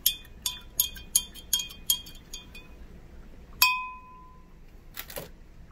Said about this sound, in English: We're going to give it a serious stir all the way down.